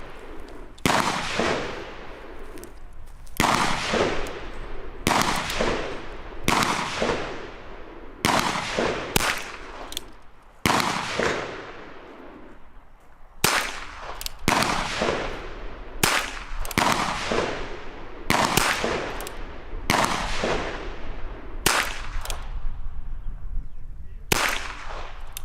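Ruger Wrangler .22 LR revolver fired in a steady series of about a dozen sharp, loud cracks, each with a brief ringing decay, spaced roughly one to two seconds apart with no voices.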